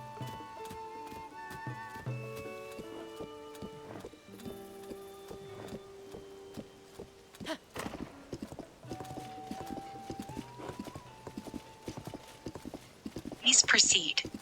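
Horse hooves clip-clop in Tears of the Kingdom, a steady rhythmic trot of distinct hoofbeats beneath game music tones, with a brief whinny-like burst near the end and voices talking in places.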